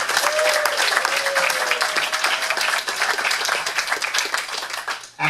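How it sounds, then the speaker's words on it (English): Loud, sustained audience applause fills a city commission meeting chamber, dense clapping with a few cheers early on, tapering off near the end. "let's give a big hand to Eden Place"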